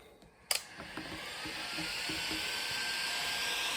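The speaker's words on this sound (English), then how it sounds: "I'm just going to heat along here" A heat gun warming a kinking hose on a 2.7L engine swap, a click followed by a steady close airy whoosh that holds on.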